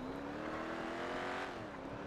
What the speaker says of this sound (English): He's driving with the clamp on.